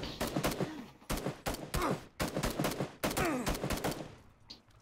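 Bursts of rapid gunfire from PUBG ring out in several loud volleys with brief gaps between them, each string of shots sharp and close, fading toward a quieter tail.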